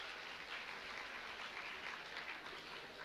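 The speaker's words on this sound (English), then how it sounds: "A big round of applause for our amazing performers." Applause from an audience for performers at an inter-house science quiz event, a steady, dense wash of clapping that holds evenly at moderate distance with no pauses or talk over it.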